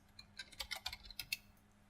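Fast typing on a computer keyboard, a quick burst of a dozen or so light, close key clicks over about two seconds in a quiet room.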